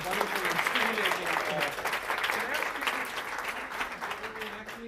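Audience applause after a talk at a college event, a full wash of clapping that tapers slightly toward the end while a voice speaks over it.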